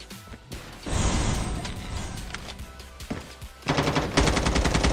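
Rapid bursts of automatic gunfire in Call of Duty Mobile, an M4 rifle, crackle loudly and continuously, with a denser, harder burst near the end and no talking.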